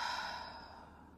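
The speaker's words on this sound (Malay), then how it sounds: "Tarik nafas, lepas." A deep breath drawn in and let out during a massage: a single soft, close, airy exhale that fades over a second with no talking.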